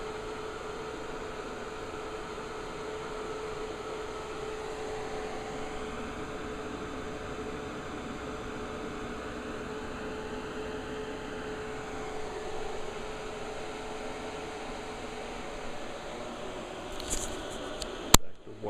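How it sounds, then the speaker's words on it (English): A noisy Sega Lindbergh arcade cabinet running House of the Dead 4 gives a steady, fairly loud mechanical whir and fan hum that holds evenly throughout, ending in a few brief clicks and knocks. "What you hear is the Lindbergh. The Lindbergh is super noisy."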